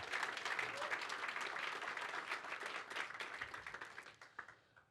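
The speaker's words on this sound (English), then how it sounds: "Can we just have a big round of applause for Christine and Georgie?" A dense, sustained round of applause from an audience at a startup accelerator demo day in Australia, loud and steady throughout before thinning slightly toward the end.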